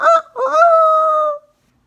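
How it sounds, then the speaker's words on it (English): A loud, close rooster call: a short harsh opening note, then a long sustained crow that cuts off cleanly into silence. "The rooster flapped his wings and crowed once again."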